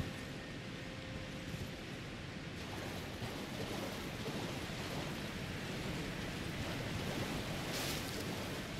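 Steady wash of water and waves by a shore in Elden Ring: Shadow of the Erdtree, a continuous surf-like rush with soft wind, unbroken and fairly even in level, with no talk.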